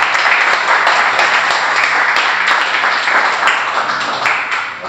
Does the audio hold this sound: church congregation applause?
yes